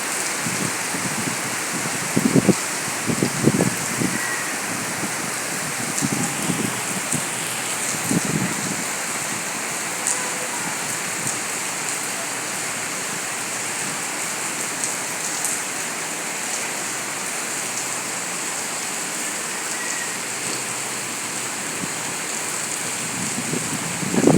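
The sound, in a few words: heavy rain falling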